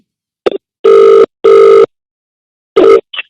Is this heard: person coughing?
no